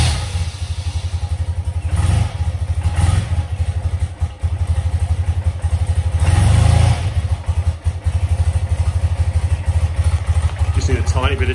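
A BMW R100 motorcycle engine runs on a little choke, a near, loud, lumpy idle with a couple of brief revs and some mechanical clatter, and no voices over it.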